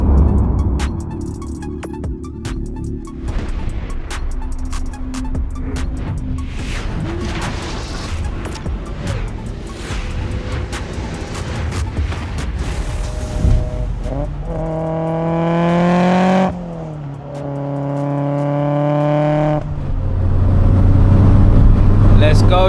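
A 460bhp Mk2 Volkswagen Golf G60 Rallye engine roars from inside the car, revving and climbing through gears with loud rising pulls and brief lifts, strong rumble throughout.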